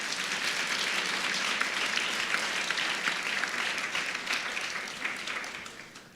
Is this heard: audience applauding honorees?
yes